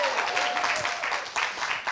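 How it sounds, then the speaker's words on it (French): A comedy show audience shouts and applauds in a dense, continuous burst, loud and close, with cheering voices blended into the clapping throughout. "si tu as envie de crier et applaudir"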